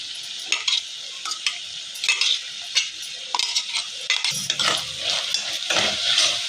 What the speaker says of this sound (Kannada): ಸ್ವಲ್ಪ ಹಸಿ ವಾಸನೆ ಹೋಗೋವರೆಗೂ ಫ್ರೈ ಮಾಡ್ಕೊತೀನಿ